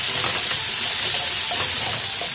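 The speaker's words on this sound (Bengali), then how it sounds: "পেঁয়াজটা যতক্ষণ না ভালো করে ভাজা হচ্ছে টমেটো পেঁয়াজ, ততক্ষণ আমি নাড়তে থাকবো" Chopped tomato and onion frying in oil, a steady loud sizzle with faint scraping as the pan is stirred, with no talking.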